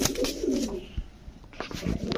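Pigeons, including top-headed birds, at a bustling pigeon market give a brief close coo at the start, followed by shuffling and clattering crowd noise.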